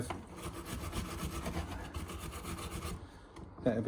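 A wire brush scrubbing rust from a part of a Mamod steam engine during a strip-down, rapid rhythmic rasping strokes close up and moderately loud, stopping briefly near the end.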